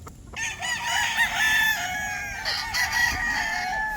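A Boston Black gamefowl rooster crows loudly and close, its call stretched across several seconds with a brief cluck-like break, alone without talk.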